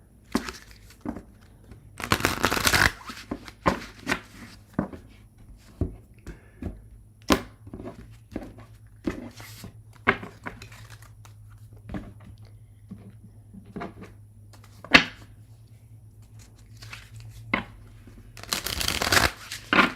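Tarot cards being shuffled and riffled in repeated bursts, with soft taps and slaps between longer riffles, close and clear with a low steady hum beneath.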